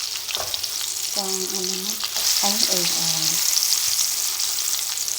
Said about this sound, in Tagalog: Ipa-fry na lang natin siya ng bonggang-bongga